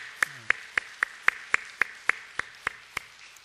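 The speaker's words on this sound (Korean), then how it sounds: "다시 뜨겁게 우리 박수로 한번 격려하겠습니다." A church congregation claps slowly in unison, about a dozen sharp, evenly spaced claps ringing out clearly in the sanctuary.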